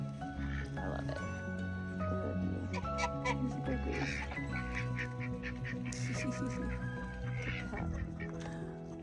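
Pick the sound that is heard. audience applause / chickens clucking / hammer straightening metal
chickens clucking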